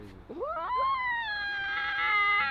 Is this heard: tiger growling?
yes